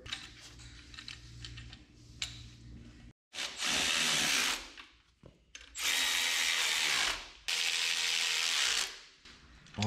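A ratchet tightens bolts on a 1930 Model engine during chassis assembly: light clicking first, then three long, loud buzzing bursts with short gaps between them, close by and with no talking.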